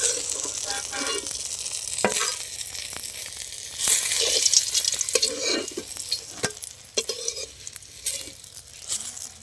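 Eggplant slices sizzle in hot oil in a home kitchen, a soft continuous frying hiss broken by sharp clinks and scrapes of a utensil against the pan.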